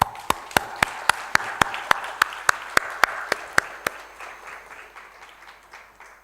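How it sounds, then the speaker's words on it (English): At a silver jubilee celebration an audience welcomes a speaker with applause; sharp rhythmic claps lead over a softer crowd wash that fades out. "with a big round of applause"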